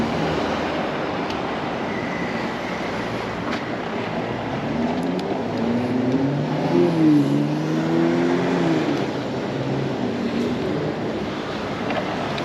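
A loud electric motorbike (emoto) rides along with a steady broadband whir and road rush, and a wavering motor whine rises and falls midway through, continuous and close throughout.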